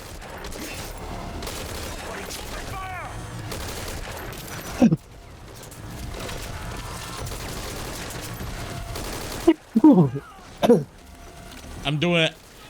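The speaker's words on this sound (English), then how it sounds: "Oh, fuck, that's an anti-tank rifle!" Gunfire from an anti-tank rifle in Metal Gear Solid V: Ground Zeroes, several heavy reports booming in clusters within game sound, while someone talks excitedly over much of it.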